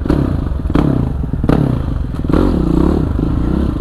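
Kawasaki KLX 450 supermoto motorcycle engine revving loudly up close, a chunky single-cylinder thump with sharp throttle blips and clattery mechanical noise.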